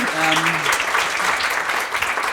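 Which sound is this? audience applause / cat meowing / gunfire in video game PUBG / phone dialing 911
audience applause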